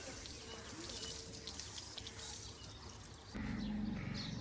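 Water splashes and runs over a freshly built mud house in a village, a steady broadband wash that swells louder near the end, with faint birdsong in the background.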